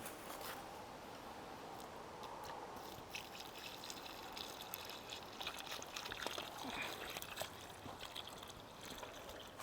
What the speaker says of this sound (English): Yeah, pour it right there.